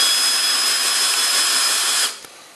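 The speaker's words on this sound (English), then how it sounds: "I have the drill in low range, and I'm going kind of fast" A power drill in low range whirs steadily at high speed for about two seconds while tensioning a garage door torsion spring, then cuts off abruptly, leaving faint room noise.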